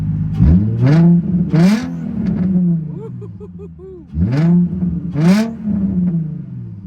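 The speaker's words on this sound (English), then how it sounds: "we're gonna give it a little rev" A modified, straight-piped Nissan 350Z engine revs hard several times, each sharp vroom rising and falling back to a steady idle, loud and close.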